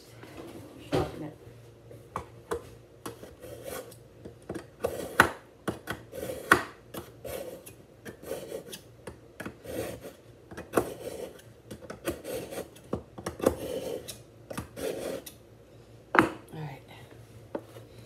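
A paring knife is sharpened with repeated short, raspy scraping strokes in an irregular rhythm, fairly quiet and close, with a low background hum.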